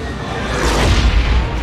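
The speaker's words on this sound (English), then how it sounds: "we destroy the ship while trying to meet Greed." A ship exploding in the video game Jedi: Survivor, a loud, rumbling boom that swells and sustains for over a second.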